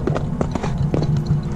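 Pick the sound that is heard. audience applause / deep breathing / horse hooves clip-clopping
horse hooves clip-clopping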